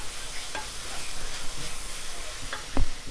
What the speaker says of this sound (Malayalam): ഇനി ഇത് തുറന്ന് വെച്ചിട്ടൊന്ന് മിക്സ് ചെയ്തിട്ട് ഡ്രൈ ആക്കി എടുക്കാം